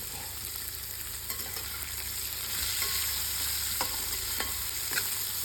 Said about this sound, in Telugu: ములంకాయలు కొద్దిగా వేగాక ఉల్లి తరుగు వేసుకొని ఉల్లి తరుగు కూడా బాగా వేగనివ్వాలి